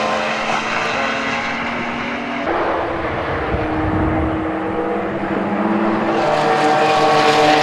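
In-car roar of a GT race car at Donington during a UK GT Cup round, a loud sustained engine drone that shifts pitch with gear changes, close and constant.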